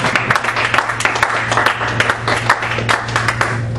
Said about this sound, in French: Est-ce qu'on peut donner une main d'acclamation au Seigneur?